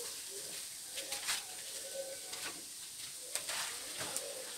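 Kerupuk crackers frying in hot oil give a faint, steady sizzling hiss broken by scattered small pops and crackles, with no voices.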